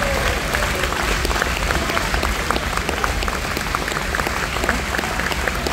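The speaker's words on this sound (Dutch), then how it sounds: "Een hartelijk applaus niet alleen voor de dansers," Dense, continuous audience applause at an outdoor festival for Māori dancers and a live band, a steady wash of clapping throughout.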